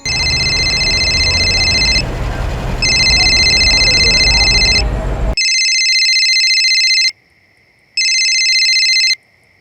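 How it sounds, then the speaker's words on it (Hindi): Telephone ringback tone on an outgoing call, a loud steady electronic tone pulsing in repeated bursts with short silent gaps, first over a dense background bed and then alone in near silence. "आप गोवर्धन चाचा को फ़ोन लगाइए न"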